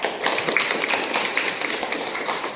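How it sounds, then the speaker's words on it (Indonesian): A classroom of pupils claps together for a classmate, a dense and steady patter of hands that fills the whole moment at moderate loudness, with no voices over it. "Tepuk tangan buat Asep"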